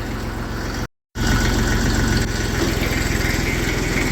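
A Massey Ferguson 35 tractor engine runs steadily with a loud, close diesel chug and a rapid regular pulse. A brief dropout breaks the sound near the start.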